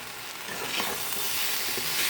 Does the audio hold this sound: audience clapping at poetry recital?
no